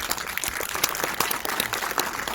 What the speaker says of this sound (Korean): 원고에 없는 얘기 하시니까 박수를 치시네요